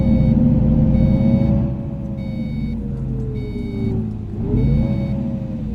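A steady, loud bus engine in Euro Truck Simulator 2 with a bus mod drones with shifting pitch as it slows and speeds up, while a faint repeating electronic tone chirps in the background.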